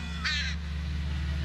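Inside the video game The Lost Crown, a crow gives a single harsh caw in a graveyard, standing out briefly over a constant low droning ambience, with no talking.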